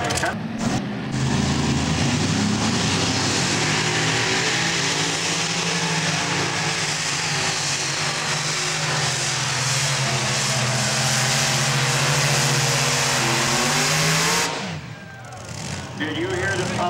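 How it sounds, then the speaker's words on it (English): A modified pulling tractor powered by twin Allison aircraft engines at an NTPA tractor pull in Tomah, Wisconsin, roaring loud and sustained for most of the run before cutting off sharply near the end. "Twin Allison aircraft engines."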